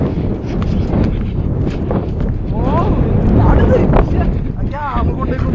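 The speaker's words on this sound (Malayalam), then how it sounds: "നല്ല തണുത്ത കാറ്റാണ്, നല്ല തണുത്ത കാറ്റ് ശരിക്കും നടക്കുന്നുണ്ട്." Cold wind on a hilltop at Wagamon roars steadily and loudly across the microphone in a constant low rumble, with people talking over it.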